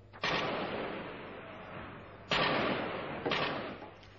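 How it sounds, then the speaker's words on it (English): Heavy artillery, machine gun and sniper fire sound around a district of Sarajevo in wartime: three sharp, loud reports, each followed by a long rolling echo that fades slowly. "the sound of heavy artillery, machine gun and sniper fire has reverberated around the district"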